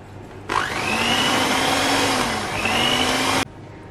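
A stand mixer whirs steadily for about three seconds as it beats flour into a whitened egg-and-sugar mixture for homemade mille-feuille pastry cream, its motor pitch dipping and rising midway before cutting off abruptly.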